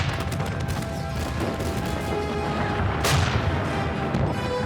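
Naval artillery fire from a World War II sea battle off Samar: heavy, dense rumbling gunfire with a sharp blast near the middle, loud and continuous throughout.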